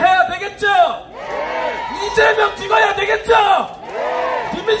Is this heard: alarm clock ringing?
no